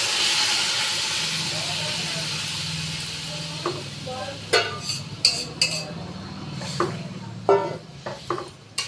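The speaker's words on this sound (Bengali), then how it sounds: "এবার সিদ্ধ করা মটরটা আমি দিয়ে দিচ্ছি।" Boiled peas tipped into sizzling fried masala for ghugni, a hissing sizzle that settles, followed by several clinks and scrapes of a spoon against the pan.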